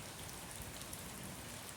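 Rain falls steadily in Fullerton, California, a dense, even hiss of drops on surfaces, close and continuous with no voices.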